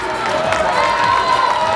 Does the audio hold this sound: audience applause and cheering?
yes